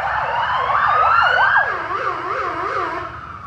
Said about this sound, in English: Yeah, it's a fire engine.